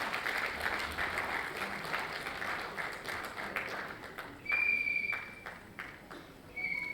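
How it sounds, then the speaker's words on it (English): Audience applause at a school annual day event, a dense wash of clapping that thins out after a few seconds, with a couple of brief high tones cutting in near the end. "Let's give a warm and huge round of applause for Sanjay sir, everyone."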